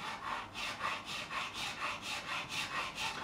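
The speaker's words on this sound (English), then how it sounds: "So I'm gonna take my widest nut slotting file, which is a 46," A nut slotting file, size 46, cuts a slot in the nut of a Gibson Les Paul BFG Gator guitar in a quick, even rhythm of close rasping strokes, about a dozen back-and-forth passes with no voices.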